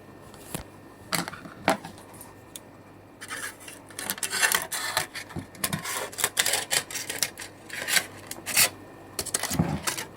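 Scratchy, irregular rasping and crinkling as excess aluminium foil covering a pickle jar of raw dates is cut away, coming in short bursts and longer rubbing stretches, close and fairly quiet, with no talk.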